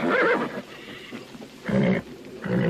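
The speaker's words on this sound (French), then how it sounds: "Qui il est, cet étalon?" A stallion neighs loudly in two or three whinnying bursts separated by short pauses, close and unaccompanied by speech.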